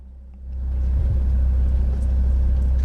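A Ford Ranger 3.2 TDCi 4x4 pulls along an off-road track at a 4x4 club challenge qualifying run, its diesel engine rising into a steady, loud low rumble after a quieter start.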